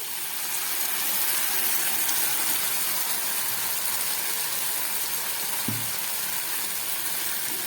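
Poppy seed and mustard paste with green chillies sizzling in a hot pan, a loud, steady, close hiss of frying with no voices, a small thud near the end.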